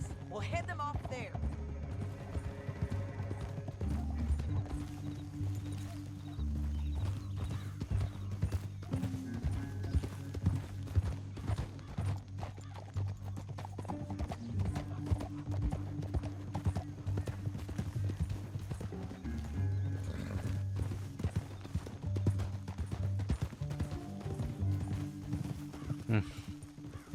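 Horses gallop in Red Dead Redemption 2 with a rapid, rhythmic clip-clop of hooves and occasional whinnies, mixed with game music and characters talking over it.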